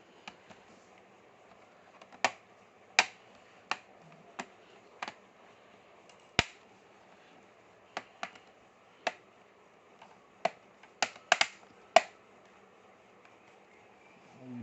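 A plastic back cover on a Dell Inspiron 5000-series laptop snaps into place in a string of about fifteen crisp, close clicks, spaced irregularly over a quiet background.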